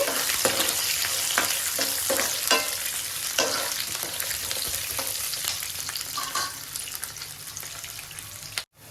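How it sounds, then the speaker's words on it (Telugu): Cashew nuts fry in a pan with a steady, close crackling sizzle and frequent stirring scrapes and clicks for about nine seconds, then the sound cuts off abruptly. No voices are heard. "జీడిపప్పు అండి బాగా ఫ్రై చేయాలండి"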